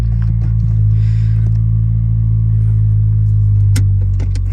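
A 2014 Mitsubishi Lancer engine idling from inside the car, a loud steady low hum with a smooth even drone, plus a few faint clicks and rustles.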